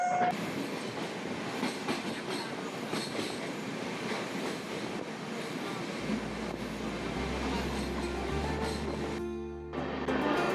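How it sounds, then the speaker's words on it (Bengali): A 22-coach 13125 Kolkata–Sairang Express passenger train running, heard from on board as a loud continuous rumble with rhythmic wheel clatter and a rising low drone toward the end. "এই হচ্ছে 13125 সাইডাং এক্সপ্রেস।"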